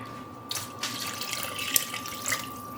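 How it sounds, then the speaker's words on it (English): Water poured into a cooking pot for a Mexican shrimp stew, caldo de camarón, a close, steady splashing gush of liquid running for a few seconds with no talking over it. "I'm gonna start adding 16 ounces of water."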